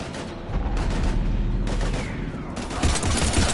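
Heavy gunfire fills a combat scene in the video game Mass Effect 3, with dense, loud bursts of shots and booms running continuously with no letup.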